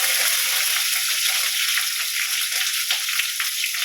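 Three small onions and a few curry leaves frying in hot oil, a loud, dense, continuous sizzle heard close up, with faint stirring ticks and no voices.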